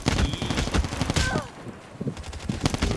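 Gunfire in the mobile shooter Call of Duty Mobile, with dense bursts of shots and booms crowding the opening second, a brief lull, then scattered shots returning; loud and close, with voices talking intermittently.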